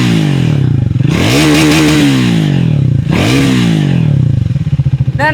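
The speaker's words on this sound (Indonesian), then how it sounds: "Ini dia suara yang single exit dulu di Speed 400." A Triumph Speed 400 with its 400 cc TR-series single-cylinder engine and single-exit exhaust idles with a throbbing beat and is revved up twice, each blip rising and falling close by.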